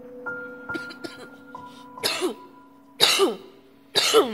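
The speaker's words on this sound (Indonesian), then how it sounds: "Ada kumat batuk lagi kan." Three distinct coughing bursts at roughly one-second intervals, loud and close, following quieter tonal beeps with no talk.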